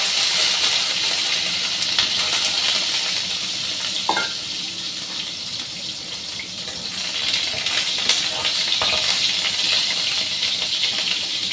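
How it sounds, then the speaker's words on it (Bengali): Pointed gourd frying in a pan with a little water makes a steady, fairly loud sizzle and spatter, with a faint metallic clink partway through; no talking. "এবার পটলটা ভাজবো"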